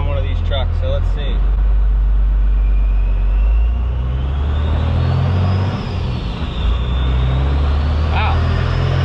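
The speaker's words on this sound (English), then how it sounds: "you guys will get to see the first acceleration with the new shaft" A hotshot pickup truck with a new one-piece driveshaft accelerates, its engine a loud, close, low rumble climbing steadily through the run, with cabin speech heard briefly at the start.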